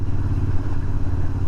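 Royal Enfield Interceptor 650 parallel-twin motorcycle engine pulling steadily in fourth gear at just over 2,000 RPM on the road, a loud, close, deep throbbing drone with even pulses and no talking.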